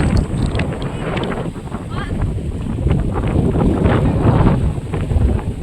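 Strong seaside wind on Legazpi Boulevard buffets the microphone in a steady, loud roar with low rumbling gusts throughout.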